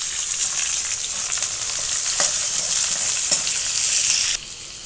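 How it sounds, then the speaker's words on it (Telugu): Curry leaves and dried red chillies frying in hot oil, a loud, steady hiss with crackling pops and spatters that drops off abruptly near the end, no voices. "కరివేపాకు, ఎండు మిరపకాయలు,"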